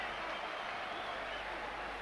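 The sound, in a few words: Royal Albert Hall boxing crowd applauding after the fight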